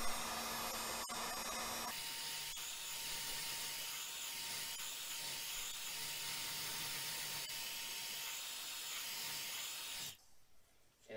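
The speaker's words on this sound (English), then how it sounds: "now I'm gonna get my heat gun and heat this up" A heat gun blows a steady, faint whirring hiss while heating a carbon fiber mud guard for a Tesla Model 3, running evenly before cutting off near the end.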